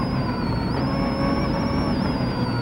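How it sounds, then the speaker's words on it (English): A 2002 WRC rally car on Rally GB with its rear brakes disconnected, the engine droning loud and steady from inside the car, pitch rising and falling slightly as the driver downshifts, with no talk. "You can hear him downshifting."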